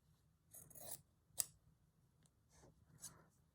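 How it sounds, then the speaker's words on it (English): Fabric scissors cutting cloth for a patchwork craft project: several short, quiet snipping and rasping strokes close by, separated by brief pauses. "Let's get my fabric scissors."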